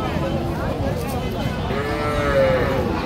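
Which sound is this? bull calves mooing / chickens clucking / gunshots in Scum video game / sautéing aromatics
bull calves mooing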